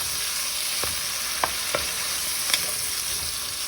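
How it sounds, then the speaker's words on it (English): Sofrito and recaito sauté in a soup pot with a continuous bright sizzle, broken by four or five short spoon scrapes and taps against the pot, close and steady, no voices. "I'm going to let this saute all together."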